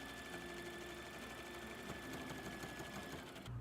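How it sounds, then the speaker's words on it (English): Sewing machine stitching two sides of fabric together, a steady fast mechanical whir and needle chatter, close and continuous with no talk. "sew the two sides of fabric together"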